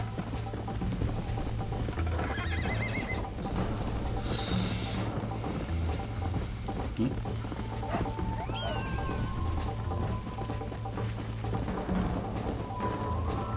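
Steady horse hoofbeats drum along under a dense Red Dead Redemption game-world ambience, with a brief whinny-like cry and some faint animal calls in the background.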